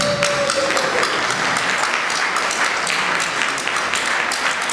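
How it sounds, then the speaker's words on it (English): Sustained, even applause from a large audience greets an awardee at the Women4Africa Awards ceremony in the Great Hall, Kensington, loud and unbroken throughout. "Can we please continue to applaud her till she gets on the stage?"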